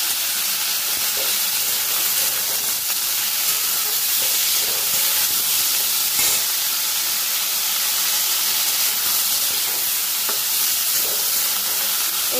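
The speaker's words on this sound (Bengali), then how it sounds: "ভাপিয়ে রাখা ব্রোকলিগুলো দিয়ে দিলাম।" Steamed broccoli and other vegetables fry in a wok with a loud, steady hiss and sizzle, close up, with faint occasional stirring clatter and no talk.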